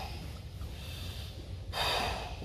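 A forceful nasal exhalation from a breathing exercise bursts out as a single hissy snort partway through, close and breathy, after a stretch of low, rumbling background noise.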